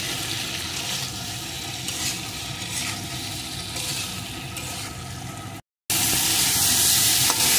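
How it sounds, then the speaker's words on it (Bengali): Pieces of gathi kochu (taro) tossed with chili powder, turmeric and salt fry in a pan with a loud, steady sizzle and stirring scrapes, cut by a brief silent gap before a brighter, hissier burst of frying. "এখন সুন্দর করে কচুগুলো ভেজে নেব"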